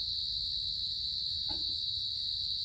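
Crickets chirp in a continuous, steady high-pitched drone at night, with a single soft thump partway through and no talking.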